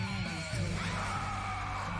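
Loud screaming vocals in a Japanese song play over dense music, the yells raw and continuous with a brief gasp-like break.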